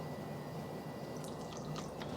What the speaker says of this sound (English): Adding 1 tablespoon of water.